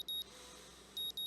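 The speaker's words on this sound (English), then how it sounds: "The sound of my alarm is an unwelcome intrusion on the sleep that's been a battle to obtain." An alarm clock in the visual novel Katawa Shoujo beeps in short, high, electronic pulses, two at the start and two more near the end, faint over a steady hum.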